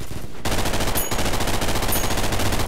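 Rapid automatic gunfire in the shooter game Double Action: Boogaloo, a loud, continuous burst of shots with a brief pause near the start and another momentary break partway through.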